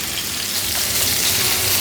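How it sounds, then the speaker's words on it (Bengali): Katla fish pieces frying in mustard oil over a medium flame, a steady close sizzle with dense crackling spatter that holds unbroken and alone. "চুলার আঁচ মিডিয়াম করে এখন মাছগুলোকে আমি ভেজে নিচ্ছি।"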